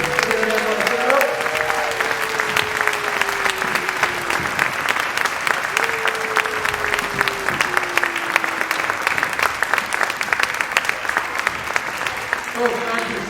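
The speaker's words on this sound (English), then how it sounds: "Another big round of applause for all of our performers." A crowd claps and cheers after a junior high school band concert, a dense, steady wave of applause lasting throughout, with a few whoops and voices rising over it.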